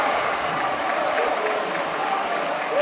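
A basketball crowd at a Dream City Christian versus Prolific Prep game roars and claps in a dense, continuous wash of cheering, with a play-by-play voice talking over it.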